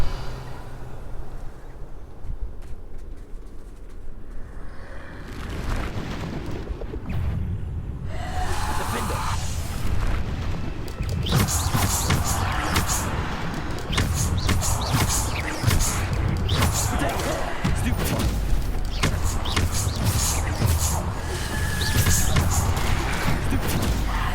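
Bombarda spell blasts in Hogwarts Legacy: a dense run of thuds and crashes packed together over a steady game backdrop, loud and continuous through most of the stretch, with a voice speaking now and then.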